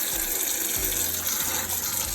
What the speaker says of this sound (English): I'm just touching the faucet here on the back of my hand so I don't contaminate anything.